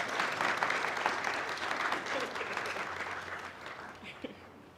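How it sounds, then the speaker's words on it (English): An audience applauds at an outdoor university graduation celebration for undergraduates, a dense, steady patter of many hands clapping that gradually tapers off over a few seconds. "You may clap now."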